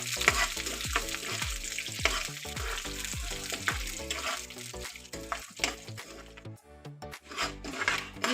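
Whole spices sizzle and crackle in hot oil in a pan while being tempered for curd rice, with repeated scraping strokes of a spoon stirring them, close and continuous, with no talking.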